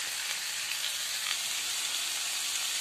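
Vegetables sauté in a hot pan for paneer noodles, giving a steady, dense sizzle that holds evenly from start to finish with no voices.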